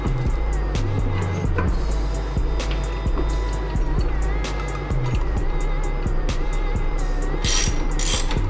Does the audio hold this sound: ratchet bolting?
yes